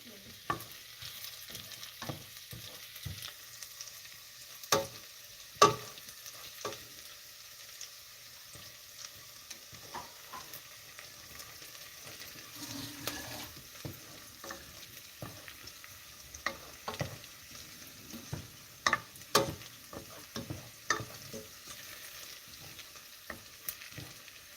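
Onions frying in a pan, a steady close sizzle broken by frequent sharp utensil scrapes and taps as they are stirred, no talking.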